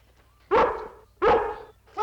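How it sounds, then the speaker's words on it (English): Collie dog Lassie giving two loud, close barks followed by the start of a third, sharp and evenly spaced. "What you barking at?"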